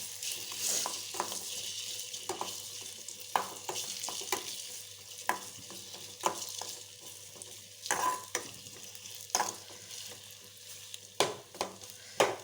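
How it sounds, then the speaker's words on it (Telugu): Chopped dates fry in a pan with a continuous close sizzle, broken by regular scrapes and knocks of a spoon stirring them, moderately loud, with no voices. "ఖర్జూరం ఖర్జూరాన్ని కొంచెం వేయించుకొని ఉప్పి పట్టుకుందాం"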